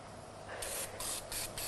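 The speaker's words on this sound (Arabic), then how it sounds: "نعمل سبراي بقى بس نرشه." A pump spray bottle of cooking oil is pressed over a baking tray, giving four or five short, close hissing squirts in quick succession after a brief quiet start.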